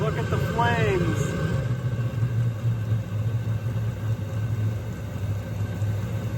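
A diesel heater with restricted airflow runs rich, fuel burning in the exhaust as a steady loud rumbling roar with a brief whistling sweep near the start.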